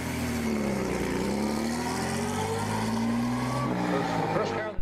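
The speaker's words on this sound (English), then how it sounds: "vintage racing cars raced up the Munson Road at their top speeds" Vintage racing cars climb Munson Road in Wilbraham at an antique auto hill climb, a sustained loud engine drone with rising and falling revving tones as a car accelerates up the hill.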